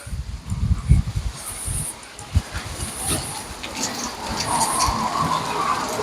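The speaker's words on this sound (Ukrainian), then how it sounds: "Сьогодні трошки вітряно." Wind buffets a nearby microphone in low rumbling gusts by the sea in Odesa, with a broad hiss of air and outdoor noise behind it.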